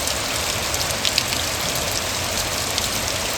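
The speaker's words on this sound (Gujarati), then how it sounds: "મસ્ત ધીમી ધારે વરસાદ આવે છે." Gentle, steady rain falls in a village near Botad, a continuous even hiss of drops on surfaces with scattered louder patters, no voices.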